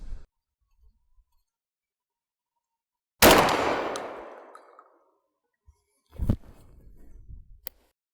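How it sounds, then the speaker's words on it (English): A shotgun loaded with double-aught buckshot fires a single loud, sharp blast at a 50-yard target range, its boom decaying over more than a second, followed later by fainter handling clatter and knocks. "this will be double-aught buckshot at 50 yards"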